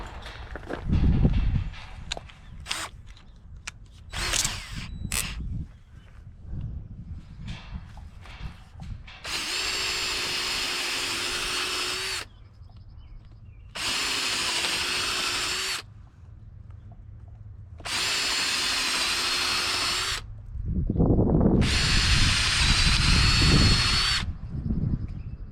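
A power drill bores during a Mighty Mule 371 gate install, four loud whirring bursts of a few seconds each separated by pauses, after some knocking and footsteps.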